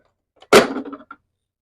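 A plastic door pops off an Action Force Vanguard toy vehicle with a single sharp close snap, followed by a brief rattle and a faint second click.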